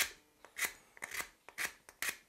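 Sharp edges of a cane stalk being cut away, a series of about five crisp, rasping snips spaced roughly half a second apart, close and fairly quiet with no talk.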